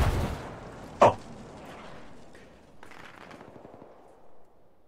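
Video game gunfire, a single sharp loud shot near the start followed by fading echoing rumble and quieter ambient noise.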